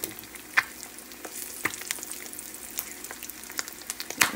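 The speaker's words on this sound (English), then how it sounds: "Got our fried egg sizzling" A fried egg sizzling in a pan, a steady crackling fry punctuated by occasional louder pops and spatters, close by.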